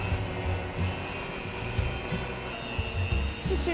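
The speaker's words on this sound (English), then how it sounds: "we're going to set our mixer of medium-high" Electric mixer set to medium-high beating very soft room-temperature butter for cookie dough, a steady close motor whir with a low rhythmic churning underneath, continuous and alone.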